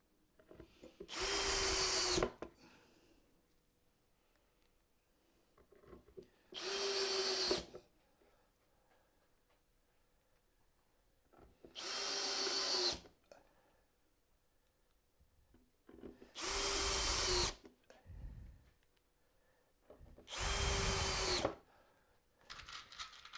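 Power drill driving screws into wood while building a dovetailed keepsake box: five separate bursts of whirring, each about two seconds long, at regular intervals, close and loud, with near silence between them.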